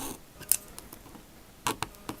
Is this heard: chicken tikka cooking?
no